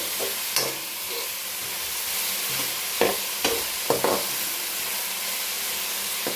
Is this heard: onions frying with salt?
yes